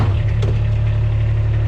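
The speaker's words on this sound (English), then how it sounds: "I got my tractor up here." Tractor engine idling outdoors at a homestead, a loud, steady low-pitched drone with a constant hum close by, with no voices over it.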